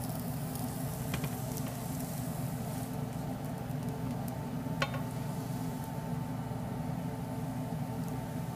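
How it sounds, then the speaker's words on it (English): Food sizzles on a hot griddle in a steady, even crackle with faint pops, continuous throughout and fairly quiet. "I hear them sizzling."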